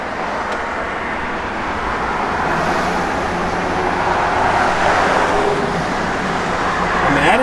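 A 1970 Pontiac GTO idles with a steady low rumble close by, swelling slightly in loudness toward the end.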